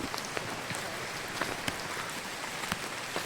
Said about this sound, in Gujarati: વરસાદ કેમ જાણે પડતો હોય